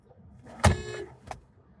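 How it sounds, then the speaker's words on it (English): A car horn sounds in traffic: one sustained, fairly loud honk lasting under half a second, then a shorter, fainter toot, over low road and engine rumble. "I had to honk at the person in front of me"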